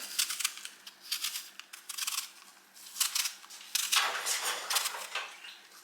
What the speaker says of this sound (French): Et ensuite on va venir éplucher nos pommes une à une.